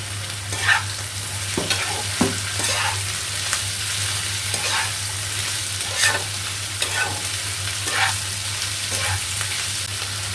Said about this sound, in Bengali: সেই আলুটা দিয়ে দিলাম। আলুটা একটু ভাজা ভাজা হয়ে যাবে এর মধ্যে।